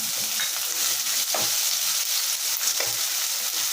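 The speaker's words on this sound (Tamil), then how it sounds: "ஒரு நாலு பல் பூண்டும் பூண்டு பல் நாலு பல்லும் கொஞ்சம் ஒரு நாலஞ்சு சின்ன வெங்காயமும் நான் நச்சு வச்சுருக்கேன் அது போட்டுடலாம்" Crushed garlic cloves and small onions fry in hot oil for an egg gravy, a steady close sizzle with soft stirring scrapes now and then and no voices.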